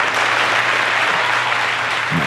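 Canned applause effect from a podcast soundboard, a dense, even wash of crowd clapping that runs loud and unbroken before a low bump at the very end.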